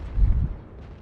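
A tank cannon fires in World of Tanks, a T37 light tank putting a shot into the side of an enemy tank: one deep, booming low blast in the first half-second that rolls off into a quieter rumble.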